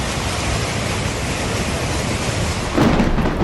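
Heavy monsoon rain pours down during a thunderstorm in India, a dense steady roar throughout with a low rumble swelling near the end.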